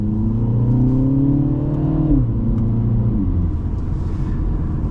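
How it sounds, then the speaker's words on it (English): A 2023 MINI Cooper S four-door automatic accelerates from inside the cabin, engine note rising steadily, then a short blat on the upshift as the pitch drops before it builds again. "You can still get a nice little blat on some upshifts, but the pops on decel are gone."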